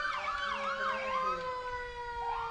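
A police car siren wails in rising and falling sweeps at a 4th of July parade in South Norfolk, loud and steady, with a traffic hum underneath and no talk.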